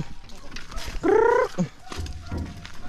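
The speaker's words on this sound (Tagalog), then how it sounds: "Yun o, yung manok pa nasa labas." A loud, harmonic clucking call from a chicken rises briefly over a noisy farmyard during coconut harvesting, with faint voices and other bird sounds around it.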